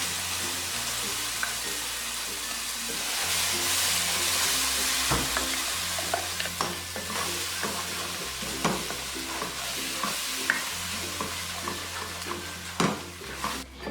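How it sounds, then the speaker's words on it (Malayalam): Ground paste fries in a pan for a restaurant-style mixed vegetable kurma, giving a steady close sizzle broken by repeated scraping strokes of a spoon as it is stirred. "ഇനി ഇതിലേക്ക് അരച്ചു വെച്ചിരിക്കുന്ന അരപ്പൊഴിച്ചു കൊടുക്കാം"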